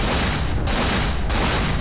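Gunfire in the Cold Fear video game comes as loud, heavy blasts, with two or three booming shots that ring over a dense rumbling background.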